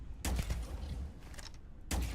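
Gunfire in Starfield aboard a space station: two heavy, close booming shots spaced well apart, with scattered fainter impacts and rumble in between, and no voices.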